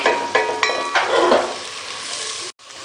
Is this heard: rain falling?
no